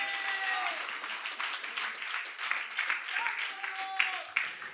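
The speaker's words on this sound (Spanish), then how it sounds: "en esa parte tenía que aplaudir, hacer algo." A church congregation applauds during a sermon, broad steady clapping filling the room for several seconds with voices mixed in beneath it.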